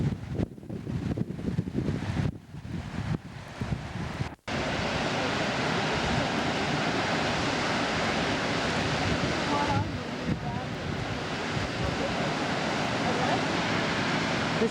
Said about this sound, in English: This is Redding Eagle Falls